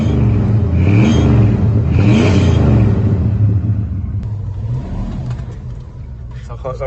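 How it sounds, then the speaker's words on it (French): Ford F150 pickup's V8 engine with automatic gearbox revving in bursts of throttle, a loud deep rumble rising and falling twice before settling to a steadier drone, with people talking over it. "Ça rentre le bruit du V8."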